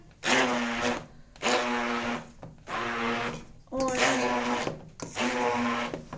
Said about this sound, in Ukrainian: Це в мене варена картопля осталася. Ми її зараз переб'ємо.